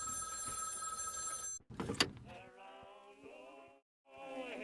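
A payphone rings inside a video game, a bright electronic bell with steady harmonic tones after a brief burst of noise, ringing alone in two clear bursts separated by a short silence.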